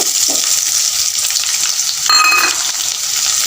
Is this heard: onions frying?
yes